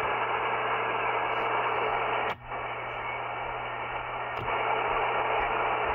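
Steady hiss of interference on a ham radio receiver with a low hum underneath, broken by two brief crackling dropouts.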